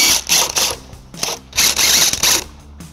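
A ratchet wrench with a 14mm socket backs off trailer hitch mounting nuts on a 2021 Toyota Sienna, giving bursts of rapid clicking in several short runs with brief pauses between them, loud and close.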